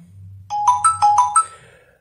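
A bright, chiming Redmi 10 smartphone ringtone through stereo speakers plays a quick run of four or five notes, loud and clear, after a brief low hum.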